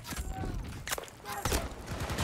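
Masterkey underbarrel shotgun fired in a video game, a few sharp blasts spaced across a couple of seconds amid game noise.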